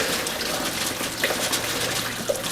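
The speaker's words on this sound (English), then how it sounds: "I just thought the way the radiator was dripping, it was dripping so slow" Radiator fluid gushing steadily out of an FJ40 Land Cruiser during a water pump repair, a continuous broadband splashing pour, close and moderately loud, with a few small drips and knocks and no talk.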